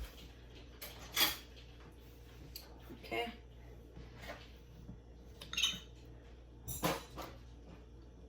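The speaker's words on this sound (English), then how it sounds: "So let me get a spoon." A spoon being taken out in a home kitchen, with a few separate bright metallic clinks of cutlery spread out over the stretch, close by, under a low background hum and a brief spoken word.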